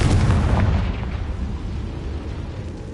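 The Confringo spell in Hogwarts Legacy goes off as a single heavy, booming blast with a deep low-end thump that then fades into a rumbling, crackling decay.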